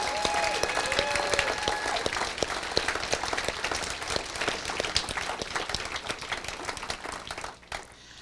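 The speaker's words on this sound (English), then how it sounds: "Please give our media services folks a round of applause." An audience at a national debate championship gives a sustained round of applause, dense steady clapping filling the room for about seven seconds before tapering off at the end.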